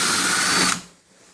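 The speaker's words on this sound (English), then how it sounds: "it says to drill on the inside with a 7/8 bit, or 7/8 inch hole saw" A power drill fitted with a 7/8 inch bit or hole saw bores through the inside wall of a kegerator, a loud steady whine that stops abruptly, then quiet.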